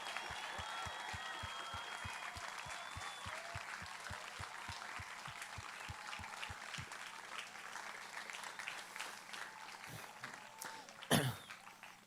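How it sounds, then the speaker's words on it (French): Audience applause at an event honoring performers, a dense, steady clapping that fills the room for several seconds, a low rhythmic thump running beneath its first half, then thinning out with a brief louder burst near the end. "On peut les applaudir très fort."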